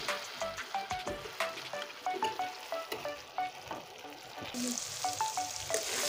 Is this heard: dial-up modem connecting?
no